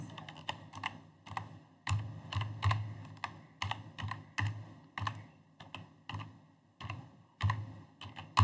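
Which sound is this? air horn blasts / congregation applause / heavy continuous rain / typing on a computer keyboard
typing on a computer keyboard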